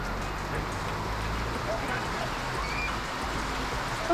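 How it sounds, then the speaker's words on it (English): Steady rain falls on tin roofs in Zanzibar, an even, moderate hiss that holds without a break for several seconds. "Now it is actually for real raining."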